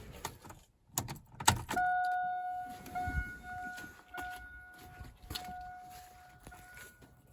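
The ignition key turns in a Chevy S10 with a V8 swap and a fuel pressure tester attached. Keys jangle sharply, then steady electronic warning chime tones ring on for several seconds alongside faint clicks and handling noise.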